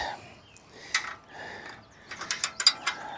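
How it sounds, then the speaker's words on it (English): Dump trailer jack bolts being tightened by hand: a few faint metallic ratcheting clicks and soft scrapes, ending in a quick run of sharper clicks, close and quiet with no talk. "I'm just going to tighten these by hand"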